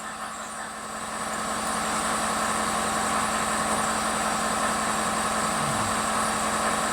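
A 2012 Ford F250 Super Duty with a 6.7 diesel engine idles, a steady low rumble with a constant whine that swells slightly in the first seconds and then stays even and close, with no talking.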